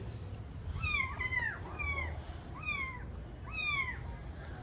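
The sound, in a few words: three kittens meowing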